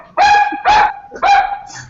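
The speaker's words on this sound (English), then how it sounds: "Oh, wild dog." A dog barks loudly and close in three sharp, evenly spaced barks, breaking in unexpectedly during a live broadcast about a women's football match.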